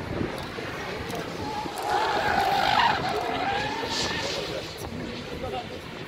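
A race car in the Suzuki Swiss Racing Cup roars past with a broad rush of engine and tire noise that swells toward the middle and then fades slowly.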